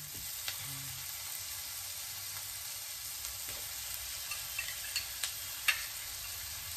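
Chicken pieces sizzling in a pan with browned onions for a Filipino-style chicken curry, a steady soft frying hiss with a few faint ticks and stirring clicks, quiet and without talk.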